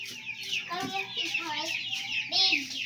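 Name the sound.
chicken clucking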